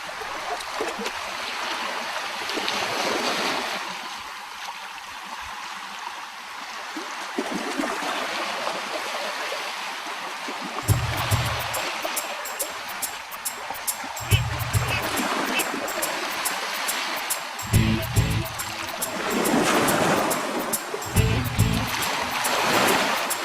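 Ocean waves wash over rocks on a coral cay in the Coral Sea, a continuous hissing surge with several heavier low splashes breaking in the later part and trickling runoff between them.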